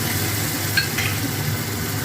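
Garlic, ginger and green chili paste sizzling in hot oil with fried onions in a kadai, the base for a katla or rui fish kalia; a steady, even hiss runs throughout, with a couple of light stirring clinks partway through.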